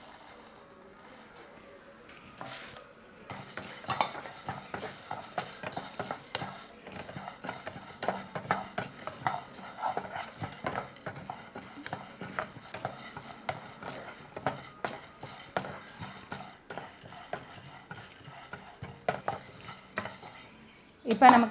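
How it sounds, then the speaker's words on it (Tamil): Chana dal dry roasts in a pan for idli podi, with continuous scraping, rattling stirs and grains shuffling against the metal at close range. "அடுத்தது 100 கிராம் கடலைப்பருப்பு வறுத்து எடுத்துக்கலாம்."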